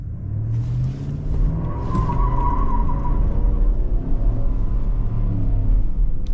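A GMC Yukon doing a light burnout, rumbling engine revving with a tire squeal rising in the middle, loud and close with no talking.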